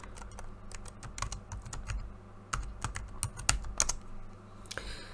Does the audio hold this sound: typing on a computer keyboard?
yes